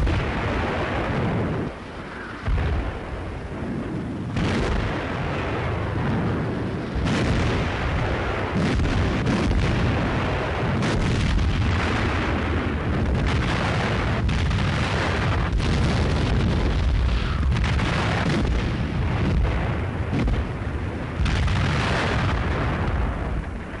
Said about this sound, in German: Einschläge der feindlichen Artillerie.